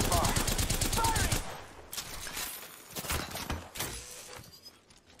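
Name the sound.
gunfire from the video game Apex Legends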